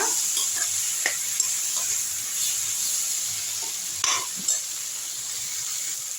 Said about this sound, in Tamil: கத்திரிக்காய் லேசாக வந்து ஒரு மூணு நிமிஷம் வதக்கினா போதும்